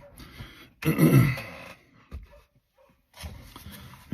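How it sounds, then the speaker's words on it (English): A neighbor's hounds bark outdoors in short, uneven bursts with near-silent gaps between, one louder, rougher outburst standing out early, heard at a moderate distance. "My neighbor's hounds are going off."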